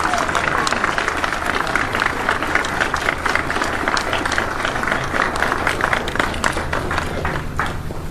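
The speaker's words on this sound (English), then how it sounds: "Give him a round of applause, will you?" A crowd applauds after an oath ceremony at a Virginia shipyard, sustained and loud dense clapping mixed with cheering and murmuring voices throughout.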